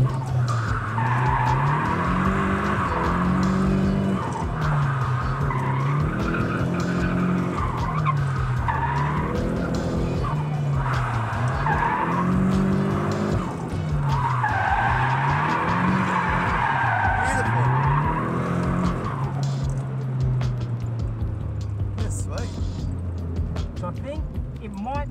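A Nissan S15 Silvia drifts under a loud, sustained tire squeal, its engine note rising and falling through repeated slides over about twenty seconds, with commentary voices running underneath.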